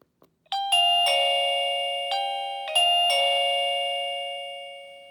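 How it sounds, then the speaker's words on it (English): An XTU wireless doorbell chime rings loud and clear, its bright electronic bell tones stepping through a short ding-dong melody that rings out and slowly decays. "Now if I press the doorbell again,"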